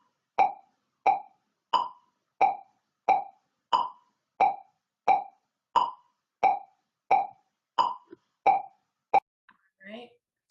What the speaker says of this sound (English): let's just listen to this metronome here